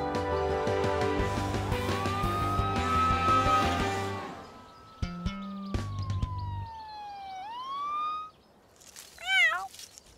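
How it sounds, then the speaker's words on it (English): A cartoonish kitten stuck in a tree meows in long rising and falling cries in a children's cartoon, alone after a burst of music and mechanical sounds, ending in a wavering mew. "It seems that there's a kitten that can't climb down from a tree."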